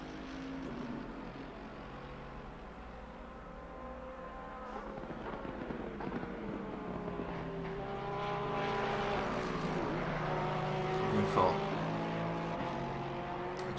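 Race car engines drone and rise in pitch at Monza in Assetto Corsa Competizione, a steady moderate whine with shifting gear notes while a commentator talks over it.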